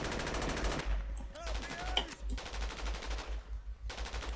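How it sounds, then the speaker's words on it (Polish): Rapid automatic gunfire crackles through a Rainbow Six-style SAS mission video game, sustained bursts broken by short pauses, with brief talk over the shooting. "Strzelam na pałę."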